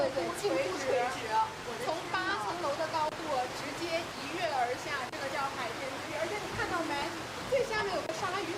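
Fast-flowing water rushes steadily in a tall garden water feature, a constant broad roar that runs without break, with chirping birds and voices audible throughout.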